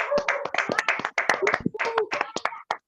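An audience applauding a speaker at a business talk, with a small group's quick, close, irregular handclaps in a dry room, sparse enough that individual claps stand out.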